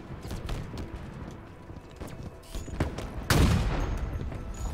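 Gunfire from the video game Halo Infinite: scattered shots pop in bursts, with a louder blast near the end, over game background noise.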